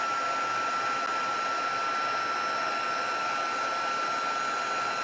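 Embossing heat tool on its highest setting warming embossing powder into gold lettering on a handmade graduation card: a steady, loud blowing whir with a constant whine, running unbroken throughout, no talking.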